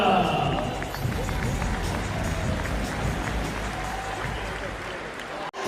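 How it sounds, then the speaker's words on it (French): Crowd applause in an arena for the Chorale de Roanne basketball team at an under-17 cup game, a broad steady roar of clapping and crowd noise under voices. "Mesdames et messieurs, vos applaudissements pour la chorale de Roanne."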